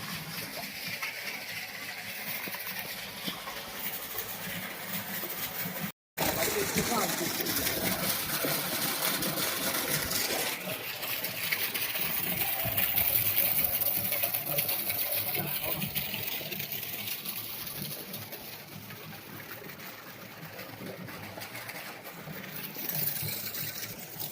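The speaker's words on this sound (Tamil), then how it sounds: "இப்போ பாருங்கள் வெயில் ஏறாரு எவ்வளோ தண்ணி வருது" An 800W BLDC solar pump delivers water outdoors: a steady, broadband rush of flowing water and motor hum runs continuously throughout, loud and even, with a brief dropout early on and faint voices underneath.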